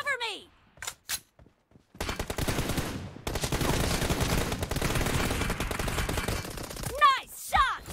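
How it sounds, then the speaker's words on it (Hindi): Rapid automatic gunfire rattles in dense sustained bursts in the BGMI battle royale game, preceded by a few isolated shots and followed by brief voices and effects as the firing stops. "nice shot George"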